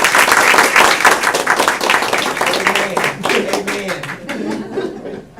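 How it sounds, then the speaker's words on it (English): An audience at a board of education swearing-in meeting applauds newly elected board members, steady dense clapping that fades toward the end, with some chuckling mixed in. "Let's have one more round of applause for our newly elected."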